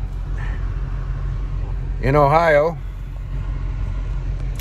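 Stopped traffic on an Ohio interstate after an accident, with a truck and cars idling close by: a low, steady engine rumble throughout, with a brief spoken phrase over it near the middle.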